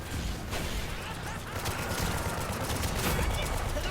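Gunfire in the Paladins video game, Capture Point mode, fills the stretch as a dense, continuous clatter of rapid shots and impacts, loud and steady throughout with no speech.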